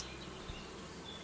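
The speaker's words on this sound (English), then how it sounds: "there's little bees! And they actually look like fucking bees" Small bees buzzing around honeycombs in Kingdom Come Deliverance 2, a faint, steady insect drone under low ambient game sound with a brief low thump midway.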